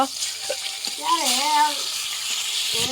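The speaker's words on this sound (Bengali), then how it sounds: "এই যে দেখুন কিভাবে মাছটা ভাজা নেওয়া হচ্ছে" Pieces of fish sizzle steadily in hot oil nearby, while a person talks over the frying.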